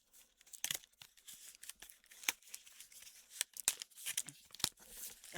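Scissors snip and tear into a cardboard biscuit box and its packaging, a string of quiet, sharp cuts and crinkles in irregular bursts, close to the microphone with no talk.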